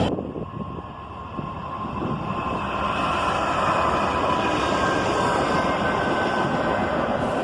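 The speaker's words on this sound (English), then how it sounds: "with a pair of ES40 DCs leading this southbound manifest train" A southbound manifest freight train led by two ES40DC locomotives rolls past, building to a loud, steady rumble of engines and rumbling cars, with no speech.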